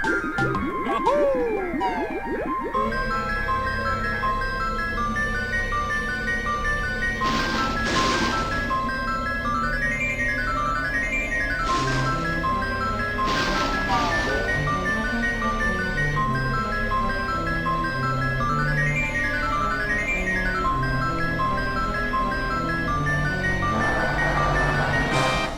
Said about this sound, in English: Stupid ice cream truck